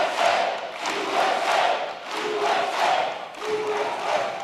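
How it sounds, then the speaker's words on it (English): A large crowd cheers and shouts continuously in the background at a political rally, loud and sustained, with swelling surges of voices and no clear individual words. "we didn't have people cheering like this in the background"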